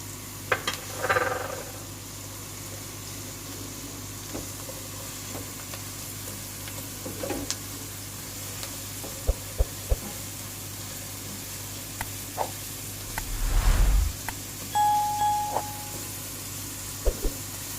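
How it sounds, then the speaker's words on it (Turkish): Leeks sautéing in a pan, a quiet sizzle with occasional scrapes and clinks of stirring, plus a brief louder rumble near the end. "Şimdi pırasalarımızı kavuralım biraz."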